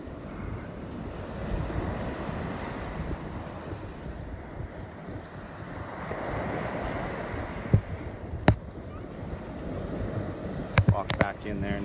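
Ocean surf washes steadily at the water's edge of a sandbar beach near Haleiwa, Hawaii, a continuous broadband roar with wind buffeting the microphone and a few sharp clicks and knocks late on.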